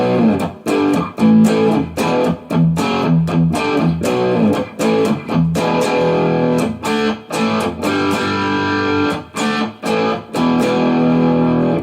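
Crunchy electric guitar chords through a distortion pedal into a clean amp setting, strummed in a steady rhythm, loud and close, with brief gaps between strums and no talking.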